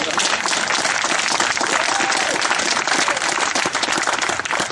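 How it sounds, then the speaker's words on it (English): Loud, sustained audience applause at a Jacksonville political speech, a dense wash of clapping with some crowd voices throughout. "Thank you for the applause."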